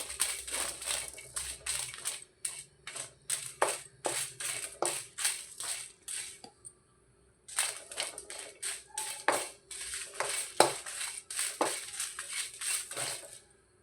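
Two or three dried Guntur red chillies are stirred in a pan over a low flame for mango chutney, giving crisp, repeated scraping rattles in quick bursts. A brief pause falls midway, and no one talks.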